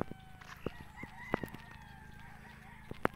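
A rooster crows and chickens cluck in short bursts against a quiet outdoor farm background, fairly close.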